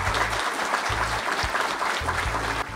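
An audience claps in steady, dense applause at an anniversary ceremony for the Instituto Siloé de Oftalmología in Guadalajara, with intermittent low hum pulses beneath the applause and a slight drop near the end.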